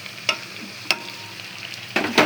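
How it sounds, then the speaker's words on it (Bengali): Onion, turmeric, chili powder, ginger-garlic paste, cumin paste and salt fry in a pan for a rohu fish-head moong dal muro ghonto. A steady low sizzle runs throughout, broken by four sharp spatula scrapes. "মশলাটা কষানো হয়ে গেছে।"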